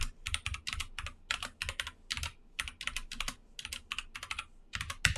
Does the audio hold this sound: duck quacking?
no